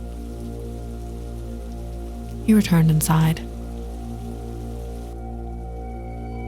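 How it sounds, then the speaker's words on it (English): Steady, heavy rain hisses throughout while a voice briefly narrates over it. "the rain suddenly began to pour"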